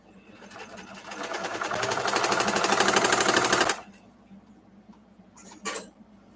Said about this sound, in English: My machine's sounding a little clunky.